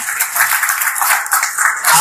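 An audience clapping together, a dense, continuous patter of hands filling the short stretch with no break.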